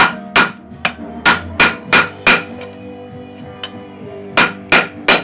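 A blacksmith hammers a punch to drift open a hole in a forged Mastermyr-style iron hinge. The sharp, ringing metal strikes come close and loud in uneven bursts of two or three, with short pauses between groups.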